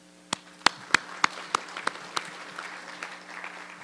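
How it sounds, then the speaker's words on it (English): Sparse clapping from a small forum audience for a speaker, about eight distinct hand claps in a slow uneven rhythm over a low steady hum, fading into a soft spatter of applause. "Let's give Mr. Zhang another round of applause."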